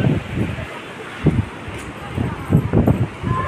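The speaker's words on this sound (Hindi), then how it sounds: "बहुत हवा चल रही है।" Strong wind gusts through trees on a hillside in cold mountain weather, a steady broadband roar with several louder surges, close and loud, with someone talking over it.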